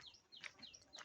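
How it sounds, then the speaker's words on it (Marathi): Forest birds call on a foggy Konkan morning, with a brief cluster of sharp, high chirps and tweets at moderate distance and no voices. "मस्त पक्षी ओरडत आहेत, आजूबाजूचं पूर्ण जंगल."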